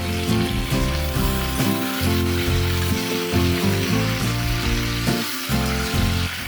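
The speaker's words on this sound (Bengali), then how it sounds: "সবজিগুলোকে 2 থেকে 3 মিনিট সাঁতলে নেব।" Vegetables sautéing in a pan for a katla fish curry, a constant hissing sizzle running underneath louder tonal music that plays throughout.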